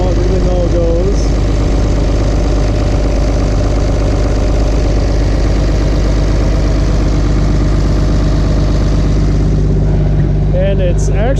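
A diesel engine fitted with a Cummins S500 turbo idles loudly and steadily up close, a dense low rumble with knocking texture and a faint turbo whine running throughout the clip.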